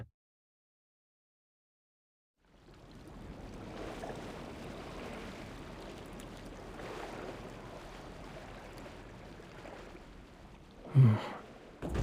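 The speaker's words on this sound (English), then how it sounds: "Listening to the ocean might help us fall asleep." After a stretch of silence, a steady wash of ocean waves in a video game rolls in and continues, with a soft breathy sound near the end.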